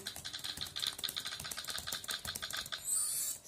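Rapid typing on a laptop keyboard, a dense run of light clicking keystrokes at close range with uneven rhythm, ending in a brief brighter hiss.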